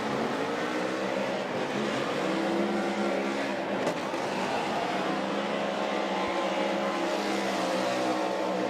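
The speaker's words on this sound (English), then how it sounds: "listen to the celebratory drift machine" Ford Mustang RTR Spec 5D drift car at Lake Erie Speedway during a Formula Drift Pro Championship event, its engine roaring and revving loudly and continuously, with shifting harmonic tones.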